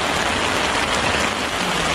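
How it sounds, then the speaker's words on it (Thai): Heavy rain pounds steadily on a camping tent near a dam in Nakhon Nayok, a dense, loud, continuous hiss filling the whole moment with no talk. "ตอนนี้นะครับฝนตกแรงมากอยู่ในเต็นท์กันสองคน"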